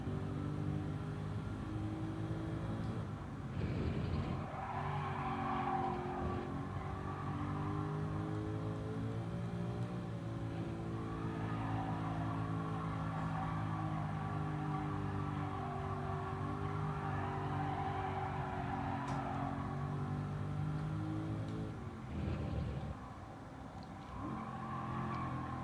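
Race car engines droning and revving continuously in Gran Turismo 7, a steady loud engine note with gear shifts and occasional tire scrubbing, no talking.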